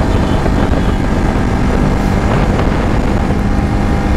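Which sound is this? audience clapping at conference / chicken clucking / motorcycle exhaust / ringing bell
motorcycle exhaust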